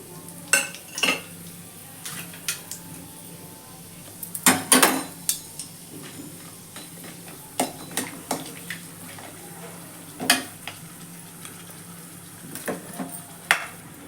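Whole spices, including star anise, cinnamon, cloves and stone flower, frying in a little oil for beetroot rice. Soft sizzling runs throughout, broken by sharp clinks of a utensil against the pan, and a person talks at times.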